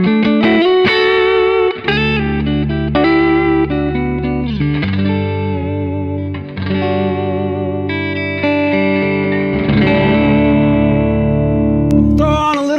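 Clean electric guitar on the neck pickup played through a Bad Cat Jet Black amp with a touch of reverb, ringing sustained chords and single notes, loud and close with no talking.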